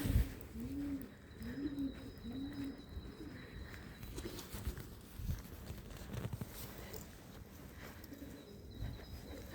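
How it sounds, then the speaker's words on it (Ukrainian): Pigeons coo in soft, rolling repeated calls close by at a theatre in Kryvyi Rih, Ukraine, with faint rustling and footsteps in the background. "голуби на театрі."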